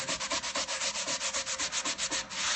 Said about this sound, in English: So really it's salt, a little bit of fat, and elbow grease is how this is going to get done.